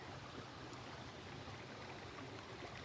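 Creek water flowing in a backyard, a steady, even rushing burble heard alone at low level, unbroken throughout.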